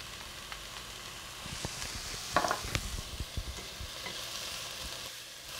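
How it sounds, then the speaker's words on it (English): Green peppers and minced garlic simmering in a pan over a medium flame, making a soft continuous sizzle with a brief cluster of stirring clatter partway through, close and fairly quiet, without talk. "You let this simmer for approximately 2 minutes. Keep your fire on medium so it won't burn or overcook."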